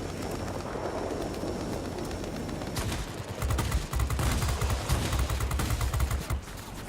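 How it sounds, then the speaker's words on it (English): Cannon fire from a British Hurricane IID fighter in the World of Warplanes game, a dense rapid stream of shots that starts partway through and rattles steadily, loud and close over engine noise. "These cannons do a good job on those."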